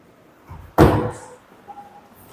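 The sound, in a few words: kitchen cabinet drawers being opened and closed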